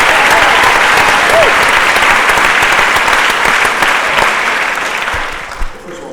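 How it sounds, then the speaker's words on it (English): Audience applause at a town hall meeting, a loud and dense burst of many hands clapping that holds steady, then thins and fades toward the end. "you're getting a lot of applause here"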